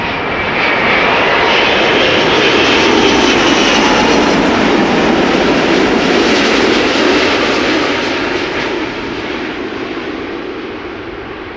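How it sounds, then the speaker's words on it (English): A loud, broad jet roar swells and rushes as a large airliner slows on the runway at Amsterdam Schiphol Airport, reverse thrust building then gradually fading, close and continuous. "I'm sure the reversers will also be applied."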